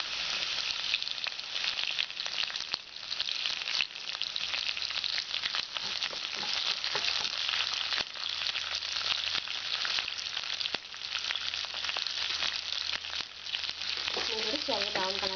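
Garlic, ginger and curry leaves sauté in hot oil for a Kerala lime pickle, a steady close sizzle and crackle running throughout with occasional stirring scrapes and no voices.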